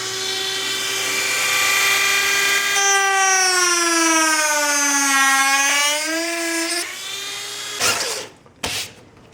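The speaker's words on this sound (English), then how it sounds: "I'm going to make the initial cut with a rotary tool and a cutting wheel before I use a jigsaw." Rotary tool fitted with a cutting wheel slicing into the panel of a Corsair 200R mid tower PC case, a loud sustained high whine that shifts pitch under load for about seven seconds, then stops with a few brief clatters.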